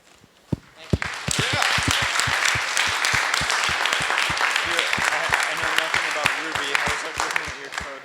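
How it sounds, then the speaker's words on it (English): An audience at the 2014 MIT Bitcoin Expo breaks into applause: a few sharp early claps, then a full, sustained round of clapping with some rhythmic beats, fairly loud and close. "let us thank them properly, not only with our applause"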